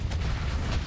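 A spaceship blows apart during a Starsector space battle, a deep, rumbling boom of steady, loud low-end energy with crackling debris bursts layered above, sustained rather than a single sharp hit.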